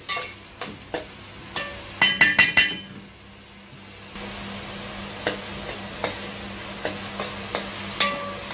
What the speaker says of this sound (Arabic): ونكمل كده تقليب في البصل اللي ابتدى يغمق